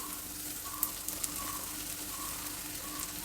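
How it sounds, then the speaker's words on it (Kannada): Capsicum added to hot oil tempering for a poha dosa side dish, giving a steady close sizzle with a few faint clinks, with no one speaking. "ಒಗ್ಗರಣೆಯಲ್ಲಿ ಈಗ ಕ್ಯಾಪ್ಸಿಕಮ್ ಸೇರಿಸ್ತಾ ಇದ್ದೀನಿ"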